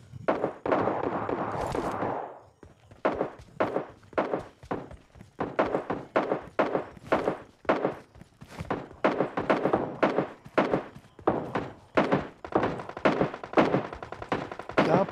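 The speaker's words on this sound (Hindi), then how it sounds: "भाई इतनी सारी फायरिंग की आवाज़ वहाँ, मतलब पहले से बूम बाम चल रही है भाई" Rapid gunfire in the battle royale game PUBG rattles out in steady, repeated bursts of sharp shots. The volleys are loud and continuous for most of the stretch, with a brief pause near the start.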